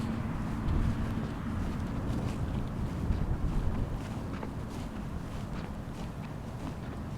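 Wind blows steadily outdoors on a breezy, cold January day beside a school in Norwich, Connecticut, a continuous low rumble buffeting the microphone with faint scuffs and movement mixed in.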